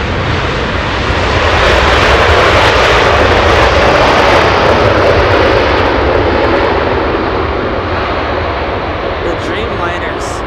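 Boeing 787 Dreamliner airliner at Los Angeles International Airport at night, its engines producing a loud, broad, continuous roar that builds and holds steady, with people talking over it.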